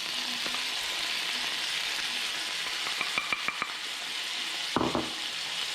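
Onion hisses in a hot frying pan as part of a steak with beer sauce, a continuous close sizzle with quick clicks and clinks of utensil against the pan.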